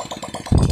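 Viar motorcycle engine revving at high RPM while its clutch bell fails to spin, a close, rough pulsing drone that swells into a louder, heavier roar halfway through, with no talk.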